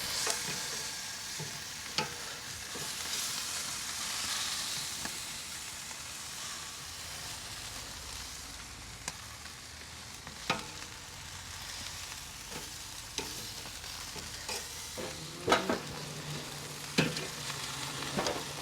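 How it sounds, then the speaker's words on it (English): Chicken leg quarters sear on the hot coals of a Weber kettle set up with a Vortex, giving a steady, loud sizzle with scattered sharp pops and crackles throughout, close up and without talk. "Just gonna give it a little sear on the coils."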